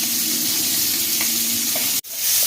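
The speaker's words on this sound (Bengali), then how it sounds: "এই তেলে আমি চিংড়ি মাছটাও দিয়ে দেবো, নুন মাখানো আছে, চিংড়ি মাছটা দিয়ে দিচ্ছি।" Salted prawns sizzle and crackle steadily in hot oil in a pan, a loud continuous frying hiss that cuts out abruptly for a moment before resuming.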